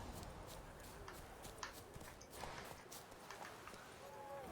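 Roach, the horse in The Witcher 3, trots with quick, light clip-clopping hoofbeats, faint and mixed under a voice talking.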